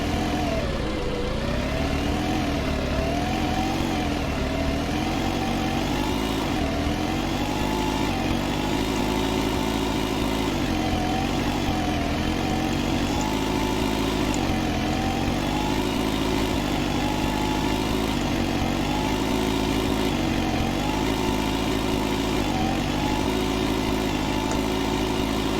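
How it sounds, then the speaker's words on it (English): A tractor drilling spring wheat in a field gives a steady, continuous engine drone with a slowly wavering pitch, loud and close, running without pause. "Drilling some spring wheat in field 19 today"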